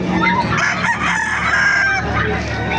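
A rooster crows loudly and close at a chicken market, one drawn-out call with clucking fowl and a murmur of market voices around it.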